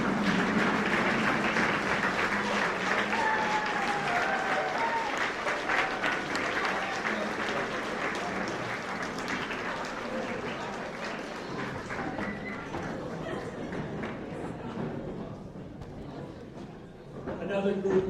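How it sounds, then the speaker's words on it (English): Sustained applause from an audience at a high school sports award ceremony, steady clapping for about eighteen seconds with crowd murmur and some voices mixed in, easing slightly toward the end. "give your fans a round of applause"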